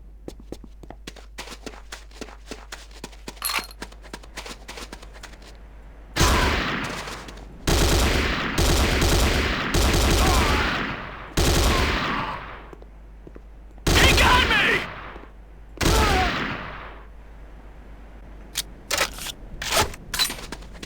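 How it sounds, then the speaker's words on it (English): A Corbretti AR-70 Raptor automatic rifle fires in Command & Conquer: Renegade, with loud sustained bursts of automatic fire in several separate volleys, between stretches of lighter clicks and footsteps. "The next weapon is the Corbretti AR-70 Raptor automatic rifle."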